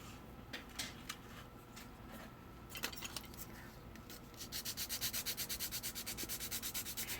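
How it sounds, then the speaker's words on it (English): A resin car body part, for a Mini build, is sanded by hand: soft scattered rubs at first, then a steady rapid back-and-forth scratching rhythm, close and fairly quiet, with no talk. "Now resin sands a lot quicker and smoother than"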